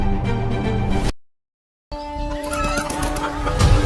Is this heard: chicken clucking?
yes